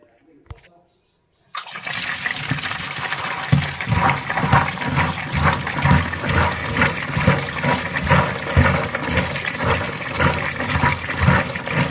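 After a brief quiet moment, water runs and splashes continuously, with repeated bursts of sloshing as turkey berries are rinsed and handled in it.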